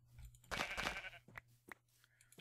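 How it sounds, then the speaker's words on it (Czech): Sheep bleat in a modded Minecraft game, one loud, close, wavering bleat of about three-quarters of a second followed by a few short clicks and a fainter sound. "Ovečka, ovečka."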